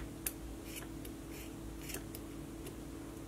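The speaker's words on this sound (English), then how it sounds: "I give up with these scissors." Scissors snip fabric strips for a dog collar in a few quick, faint, close cuts spaced irregularly over a quiet indoor background.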